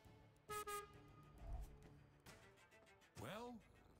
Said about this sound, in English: Oh, I just honked the horn a little bit.